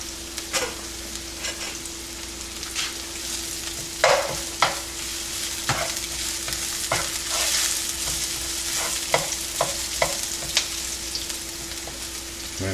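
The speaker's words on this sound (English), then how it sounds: "let's add some corn oil. I'll throw my onions in here" Onions sizzle in hot corn oil in a pan, a steady frying hiss with frequent scrapes and clacks from stirring, close and moderately loud, no voices.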